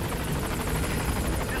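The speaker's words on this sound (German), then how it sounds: "Endlich mein Helikopter." A helicopter arrives in the video game Metal Gear Solid 5, its rotor chopping in a steady, fast rhythm, loud and close for the whole short moment with no talk.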